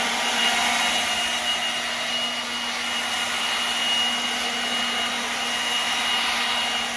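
A Milwaukee battery-powered leaf blower runs at a constant high-pitched whine with an airy roar, holding steady and close throughout with no talking.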